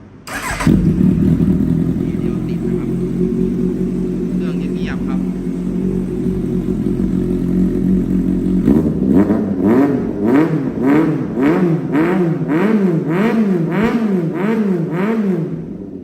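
A 2013 Kawasaki Z800 motorcycle with an aftermarket AR exhaust fires up and idles with a loud steady rumble, then is revved hard in a rapid rising and falling series of throttle blasts, close and with no voices over it.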